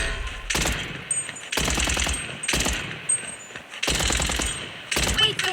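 Automatic gunfire in the Blood Strike mobile shooter game, four loud rapid bursts separated by short pauses, with faint game sounds between them.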